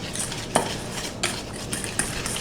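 An orange glaze mixture for an upside-down cake, made with orange whipped vodka, is stirred briskly in a silicone pan, giving close, wet swishing with sharp clinks of a utensil against the sides and no talking.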